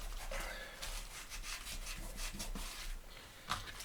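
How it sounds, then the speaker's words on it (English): Cloth or paper being rubbed by hand while repairing a Bible cover, a soft, steady scrubbing of repeated strokes, close and fairly quiet, with a small tap near the end. "Okay, rubbing it in."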